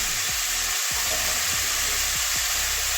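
Potato, cauliflower and carrot fry in a pan with a loud, continuous sizzle. Several sharp scraping stirs break through it at regular intervals.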